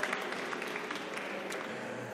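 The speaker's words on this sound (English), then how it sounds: "please give Mark a big, warm applause" Audience at a broadband and digital-innovation event applauds a speaker named Mark: a soft, even wash of clapping from a crowd, slightly distant and brief.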